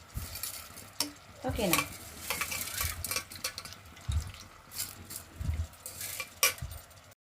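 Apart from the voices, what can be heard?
washed rice added to pan of fried onion, chili, ginger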